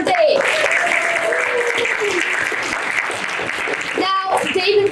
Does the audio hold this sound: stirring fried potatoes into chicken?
no